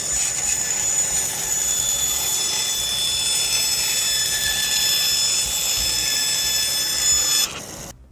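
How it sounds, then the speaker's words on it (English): A bandsaw cuts through wood for a children's name puzzle, its loud steady whine and high ringing tone holding for several seconds before winding down at the close. "I'm just going to go ahead and cut this with the bandsaw."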